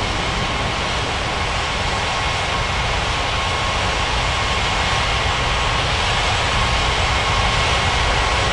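Airliner jet engines at Bali airport, a loud continuous roar that fills the scene and swells slightly toward the end, steady and close with no voices over it.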